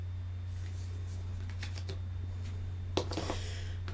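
Oracle cards are picked up and shuffled on a table in a few soft, brief rustles and slaps over a steady low hum, close and quiet, with one sharper card flick near the end.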